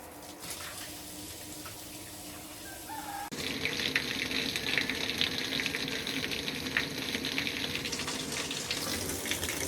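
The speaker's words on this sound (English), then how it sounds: "One thing that's really pumping out the water." A pump draining water from a cedar hot tub through a hose, a steady gushing flow that jumps louder a third of the way through and then holds a constant rushing hiss, close by.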